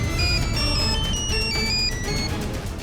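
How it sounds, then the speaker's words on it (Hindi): A mobile phone rings for an incoming call, playing a bright melodic ringtone of quick repeating notes, loud and continuous, with no one talking over it. "दादा का फोन आ रहा है"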